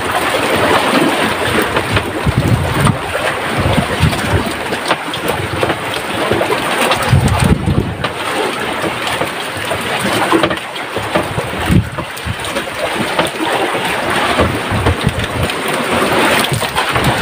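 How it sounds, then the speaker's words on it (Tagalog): Heavy rain falls outdoors near a boat, a loud, continuous wash of noise with no breaks and no voices. "talagang nakikita ninyong maulan talaga"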